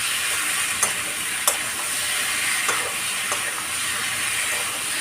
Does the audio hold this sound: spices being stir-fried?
yes